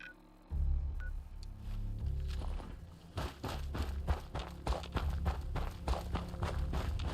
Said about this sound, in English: Loud footsteps.